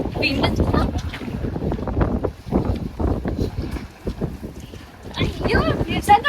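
Strong wind in a heavy snowstorm buffets the microphone in low, gusty rumbles that rise and fall, while a person talks through the gusts.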